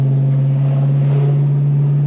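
Straight-piped BMW M3 exhaust droning loudly, a steady deep low hum held evenly throughout, close and unbroken, with no voices.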